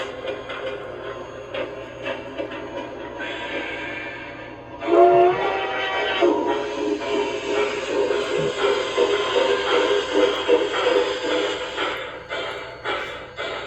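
Model LGB 2019S steam locomotive fitted with a Zimo MS950 sound decoder, running in its coasting mode: a steady, soft mechanical rumble and hiss with light rhythmic detail and a brief whistle-like tone partway through, no talk.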